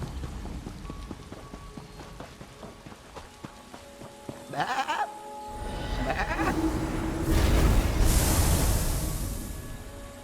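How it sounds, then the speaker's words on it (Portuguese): Sheep bleating in the Elder Scrolls Online video game, heard among rain-like pattering and game ambience, with a few clear bleats mid-clip and a louder wash of noise toward the end. "Cadê aquela outra ovelha? Volta aqui."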